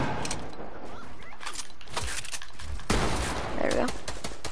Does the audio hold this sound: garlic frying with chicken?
no